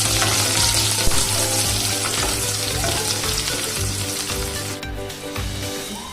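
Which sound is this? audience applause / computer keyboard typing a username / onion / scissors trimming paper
onion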